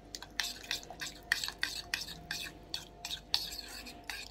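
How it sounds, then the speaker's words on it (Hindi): Turmeric and Kashmiri red chilli being stirred into a mixture, a quick regular series of soft scraping strokes, about three per second, close and quiet with little sizzle underneath. "अब इन सब चीज़ों को हम कर लेंगे इसमें अच्छे तरीके से मिक्स।"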